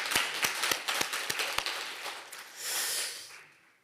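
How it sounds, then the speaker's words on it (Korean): A church congregation at a Sunday worship service claps in praise: six sharp, evenly spaced claps ring out close and distinct, then fade into a soft breathy rush and trailing room noise. "영광 박수 올립시다."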